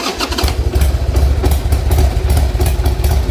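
A Harley motorcycle engine cranks and catches, then settles into a loud, rough, lumpy idle with uneven pulsing beats, close by and with no talking, on a troubled bike whose idle needs adjusting.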